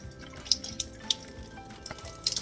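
Water leaking from a Stanley tumbler lid drips and spatters in quick irregular bursts, small splashes close by and fairly quiet, with no one speaking.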